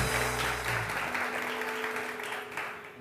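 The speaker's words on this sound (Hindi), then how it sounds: "बहुत सारी तालियां जी" Studio audience applause on a TV morning show, a loud, dense burst of clapping that fills the room, then gradually thins and tapers off over a few seconds.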